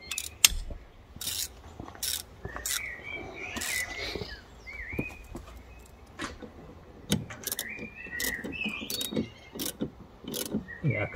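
A 16mm ratchet wrench tightens the big nut on a BMW 5/6-Series wiper linkage, giving short bursts of clicking pawl sounds at close range with rustling and knocks of work between them.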